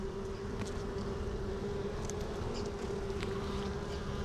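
Honeybees buzz around an open super beehive box holding frames of capped brood, making a faint, steady, close-up hum with scattered brief clicks.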